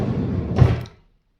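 A drawer slides open with a short rumbling scrape that ends in a soft bump, loud and close, then silence.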